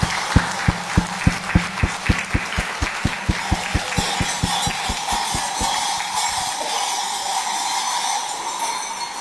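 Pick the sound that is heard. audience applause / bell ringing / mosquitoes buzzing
audience applause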